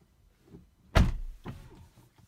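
A single sharp, solid thump of a Tesla car door shutting close by, followed by a softer mechanical clunk and quiet.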